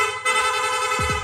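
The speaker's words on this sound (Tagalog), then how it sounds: "Rapid horn." Quick repeated honks from an aftermarket rapid horn on a Honda ADV160 scooter, a loud, bright, continuous buzzing tone up close, pulsing in fast bursts.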